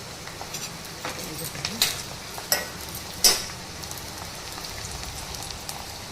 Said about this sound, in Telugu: స్టవ్ వెలిగించుకొని నూనె పోసుకొని ఉల్లిగడ్డలు వేసుకుందాం